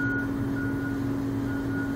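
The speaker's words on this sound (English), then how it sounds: "but he's beeping that horn" Out in front of a house in Lakeland, Florida, a vehicle horn sounds as a steady, sustained tone that holds unbroken throughout, fairly loud over the street background.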